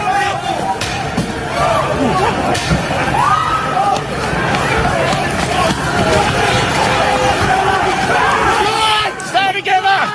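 A hectic protest crowd in Australia, with continuous loud babble, shouting voices and scuffling movement, chaotic and close throughout as people push through the throng.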